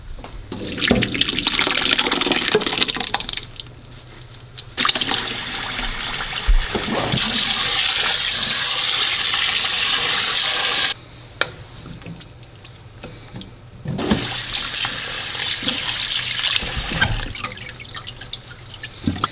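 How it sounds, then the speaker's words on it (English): Cold running water pours and splashes over cooked tapioca pearls in a strainer in several long bursts, stopping and starting, close by and fairly loud. "Let's go ahead and strain this and rinse it with cold water."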